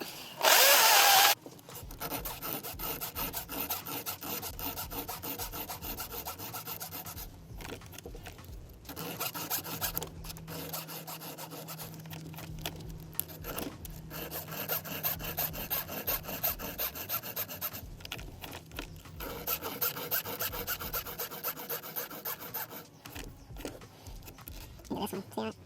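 A file rasps across the chain of a Husqvarna 225i battery chainsaw in repeated scraping strokes. It sounds close and continuous, with brief pauses between bursts of filing.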